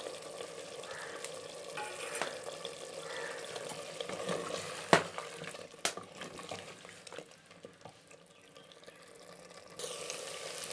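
Mutton with green chilies frying and being stirred in a pan for aloo gosht, a steady close sizzle with occasional scraping clinks of the spoon and one sharp knock midway, with no talking.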